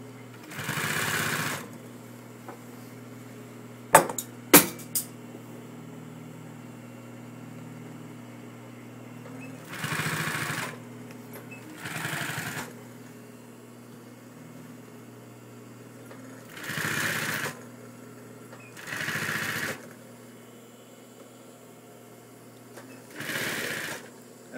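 A sewing machine stitching a throw pillow runs in several short bursts of a second or two each, separated by quiet pauses, with a couple of sharp clicks early on.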